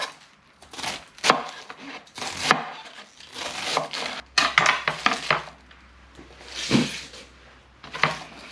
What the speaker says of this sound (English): just chop it up to small pieces